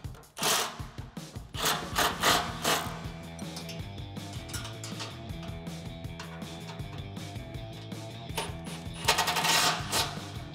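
Wrench working on bolts while installing a Barricade winch bumper on a Ford F150, with repeated scraping and ratcheting strokes in uneven bursts, close and fairly clear, some metallic clanks mixed in.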